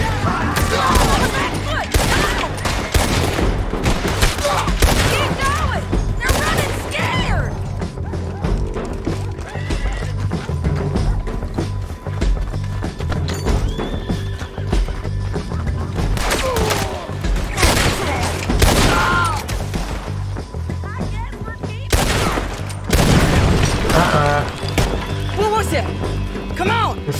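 Video game Red Dead Redemption 2, during a jailbreak shootout: rapid volleys of gunfire and blasts mixed with horses whinnying and clopping hooves, loud and continuous, with people shouting over the chaos.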